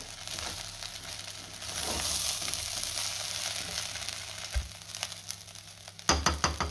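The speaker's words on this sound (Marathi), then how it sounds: "पुन्हा सगळं व्यवस्थित मिक्स करून घेऊया" Fried rice with finely chopped coriander being stirred and tossed in a hot pan, a steady soft sizzle with scattered scraping strokes, then a run of sharp knocks of the spoon against the pan near the end, close, no voices.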